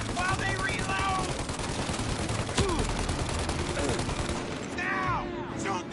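Sustained gunfire fills a shootout in Mafia Definitive Edition, rapid continuous shots and bursts over dense ambient battle noise, with a couple of sharper cracks punctuating the steady barrage.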